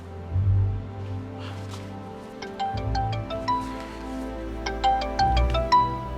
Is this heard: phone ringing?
yes